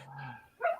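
A dog gives a single short, moderately faint bark near the end, preceded by a soft whining or whimpering tone, with no talk.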